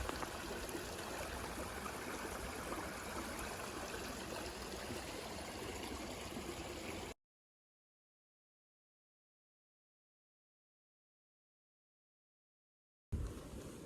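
A creek flows past ice formations along its bank, a steady close rushing and trickling of water that cuts out abruptly midway, then returns briefly at the end.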